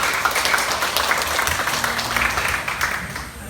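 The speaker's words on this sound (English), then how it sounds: "Round of applause for yourself." A conference audience in Baguio applauds together, a steady broad wash of clapping that holds at an even loudness throughout without fading.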